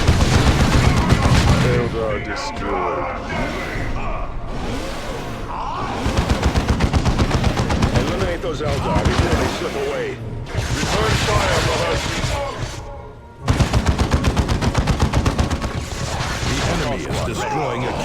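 Dense gunfire from the Dawn of War II strategy game: rapid bursts and fusillades with crashes and booms, loud and nearly continuous, with in-game voices calling out over the combat.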